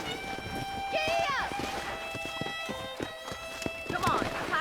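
Horse hooves clip-clop in the Western video game Red Dead Redemption, a rhythmic run of hoof strikes under music tones and a brief whinny, with voices talking over much of it.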